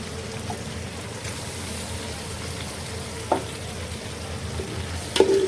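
Cauliflower and chicken frying in a pan as tomato, ginger and garlic paste goes in, with a steady close sizzle and stirring throughout and a couple of sharp clinks or splashes near the end.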